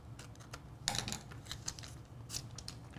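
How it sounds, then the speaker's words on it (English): Scissors trim heat transfer vinyl for Cricut Christmas decor, making a run of quiet, close, irregular crisp snips and clicks. "I'm going to come in here with these scissors and just trim this part up."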